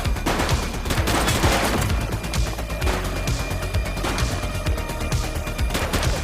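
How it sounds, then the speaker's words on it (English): Dense, steady gunfire fills The Precinct video game, with rapid overlapping shots and automatic bursts that stay loud throughout and have no talking over them. "Shots fired!"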